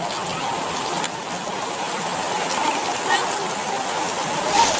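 Heavy rain falls outdoors with strong wind, a continuous close wash of water with a few brief louder splashes, while a person talks over it.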